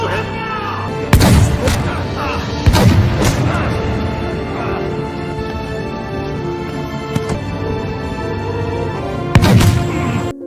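Gunfire sound effects of bullets coming from all directions in a cowboy story: several heavy booming shots spaced a few seconds apart over a dense rumbling background, with narration running through it.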